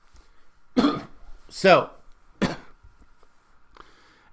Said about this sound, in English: Sorry about that little cough.